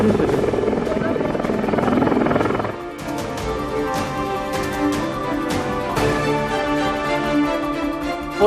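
A helicopter hovers during flood rescue operations for stranded villagers in Maharashtra, its steady rotor drone and engine whine filling the clip with a loud, continuous, pulsing roar.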